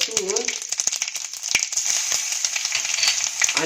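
Cumin seeds crackle and sizzle in hot oil for a healthy chavali (amaranth greens) bhaji, a dense continuous hiss with sharp popping ticks scattered throughout, steady and close.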